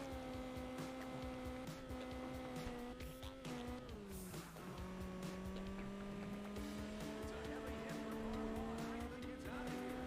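Engine drone of a car with a 5-speed gearbox driven in the racing game Juiced 2: Hot Import Nights on Xbox 360, steady and loud with harmonic revving that drops and climbs around shifts, plus faint tire squeal.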